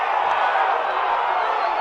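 Baseball crowd at an Army versus Navy college game murmuring and calling out after a disputed pitch call, a steady broad crowd roar with no distinct peaks.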